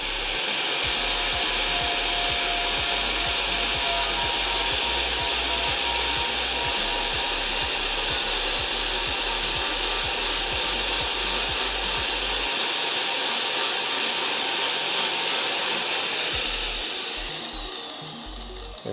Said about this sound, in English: I want to make sure as best as I can that I don't grind away at the cross member because you'll thin it out